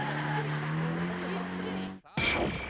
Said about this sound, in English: She hits all the right notes as she demonstrates a textbook example of drifting.